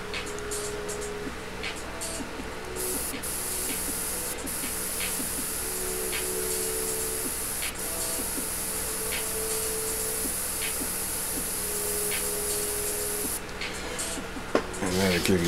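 Airbrush spraying paint on a football player portrait, a steady high-pitched hiss running continuously for many seconds with a fan blowing in the background and faint clicks.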